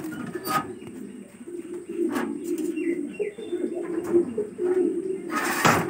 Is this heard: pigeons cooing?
yes